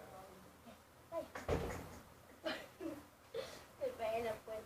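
A person bumps into a door at home, producing a sharp thud in the middle of the clip, with several softer knocks and bumps around it and people talking through it.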